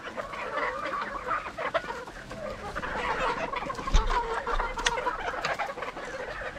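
Gamefowl hens of the Tornado Hatch and Gilmore Hatch lines clucking steadily at close range in a poultry yard, with overlapping bird calls and a brief louder burst near the middle.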